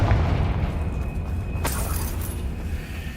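A Confringo blasting spell explodes in the Hogwarts Legacy video game: one sharp, loud broadband blast bursts out partway through, over a steady rumbling game background.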